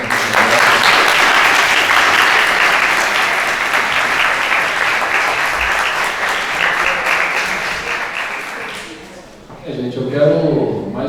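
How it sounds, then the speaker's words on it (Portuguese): Loud, dense applause from an audience at a Brazilian career talk on banking and finance, sustained for several seconds before fading out, then a speaker begins talking right after. "Uma salva de palmas para eles."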